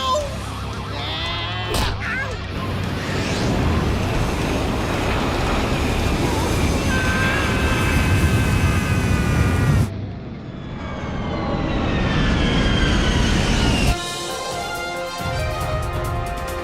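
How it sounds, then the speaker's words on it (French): Sound effect of an airliner in flight before crashing, a loud sustained roaring engine drone that cuts off abruptly partway, then swells again before another sudden drop. "Un avion de ligne se serait écrasé sur l'usine de papier de toilette rouleau"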